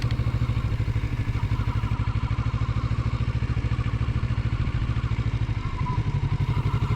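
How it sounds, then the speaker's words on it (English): A 2024 Kawasaki Z650RS motorcycle's 650 engine burbles at idle close by, a steady rapid lumpy thumping with uneven pulses throughout, no voices. "While not a popular engine note, I actually like the burbles the 650 engine makes."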